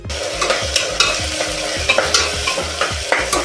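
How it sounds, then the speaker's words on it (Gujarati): Pigeon pea vegetable curry with tomato, coriander, garlic and chili is tempered and stirred in a pan, a spoon scraping in a steady rhythm about twice a second over a constant close sizzle. "આવી રીતે મસ્ત મસ્ત વઘારી નાખ્યું છે શાક"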